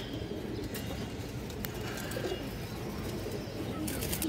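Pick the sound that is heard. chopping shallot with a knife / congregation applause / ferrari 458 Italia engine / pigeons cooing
pigeons cooing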